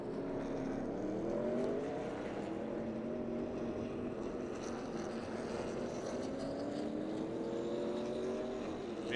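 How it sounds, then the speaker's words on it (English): ARCA Menards Series West stock cars race at Sonoma Raceway, a loud continuous engine roar with pitch that climbs and falls as the cars accelerate and brake through the turns, steady throughout with no clear voices. "inches off that back bumper of Jake Drew as they work their way down into turns 3 and 3A."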